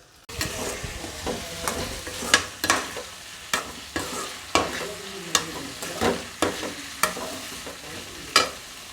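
Mutton kulambu masala being sautéed with curry masala powder and turmeric, tomato and onion in a pan: steady frying sizzle punctuated by a dozen sharp spoon scrapes and stirs at a regular rhythm, close and alone.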